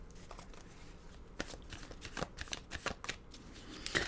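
A deck of tarot cards being shuffled by hand, with soft papery riffles and slaps in irregular bursts, close and fairly quiet, with no talking.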